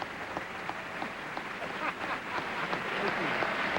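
Applause fills the chamber at the 1996 State of the Union address, a dense crowd clapping steadily for several seconds with voices murmuring beneath.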